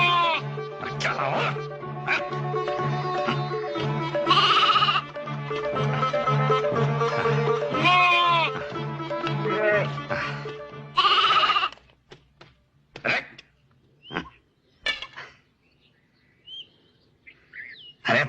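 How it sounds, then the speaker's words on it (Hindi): Goat bleating repeatedly in a loud, dense run of wavering cries, mixed with a voice talking over them, then thinning to a few short, sharp bleats and pauses near the end. "अरे बकरी पालनी थी तो कोई सीधी सादी बकरी पाल लेती।"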